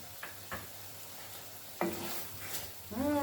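Sugar beans drop into a hot pot for a bredie: a few faint clinks, then a sudden sizzle and stirring rising in loudness, close, with a squeaky tone at the end.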